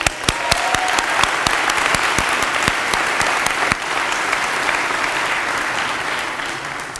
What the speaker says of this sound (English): give yourselves a round of applause because we made it